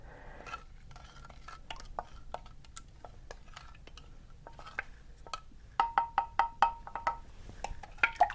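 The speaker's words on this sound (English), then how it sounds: "Give it one last stir." Hibiscus kombucha stirred in a glass jar, a series of light clinks and scrapes that grow into a quick rhythmic run of taps near the end.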